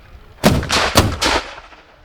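Artillery battery guns firing at a military show, several loud booming blasts in quick succession, close by, each ringing out briefly before fading.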